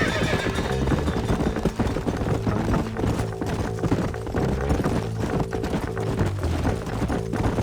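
Game horses whinny and snort while hooves clip-clop steadily across the ground, with music playing underneath and no talk.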